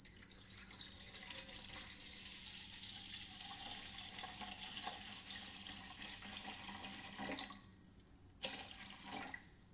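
Water runs steadily from a tap into a container to measure 633 grams for hand-made pizza dough, a close continuous pouring hiss that cuts off, then returns in a brief final splash.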